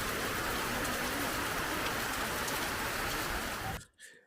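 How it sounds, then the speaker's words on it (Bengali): Heavy monsoon rain near Cherrapunji pours down as a loud, dense, unbroken hiss for about four seconds, then drops away abruptly at the end. "প্রচণ্ড বৃষ্টি হচ্ছে"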